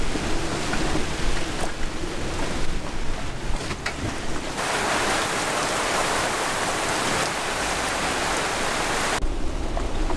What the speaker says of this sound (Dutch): En veel regen.